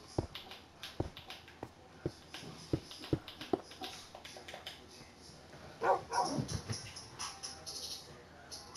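A dog barks in a video game, a run of short, fairly faint yips and woofs spaced through the clip over a low background, with a louder cluster of sounds near the end.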